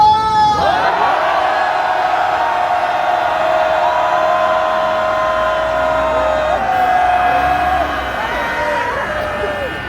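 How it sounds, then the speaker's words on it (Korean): A large crowd at an outdoor rally near a residence in Hannam-dong shouts and cheers in a loud, sustained roar that fills the whole stretch, with voices rising and falling in the mass. "우리 반도로 한번 함성 10초간 발성!"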